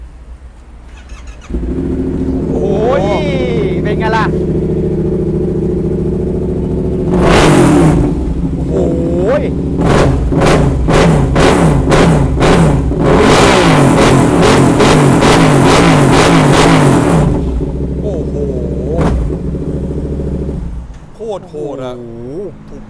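Used motorcycle at a dealer lot, engine started and revved repeatedly in sharp bursts, loud and close, with people talking over it.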